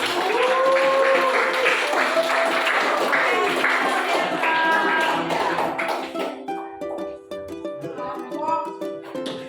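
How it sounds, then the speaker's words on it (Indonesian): Students in a classroom applaud a presenting group: about six seconds of dense clapping mixed with voices, then fading into scattered taps and quieter talk. "mari kita kasih aplaus untuk kelompok 1"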